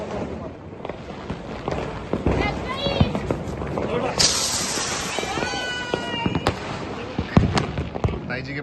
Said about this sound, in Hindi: चलिए जी अब पटाखे फोड़ते हैं और करते हैं एंजॉय पटाखे चलाकर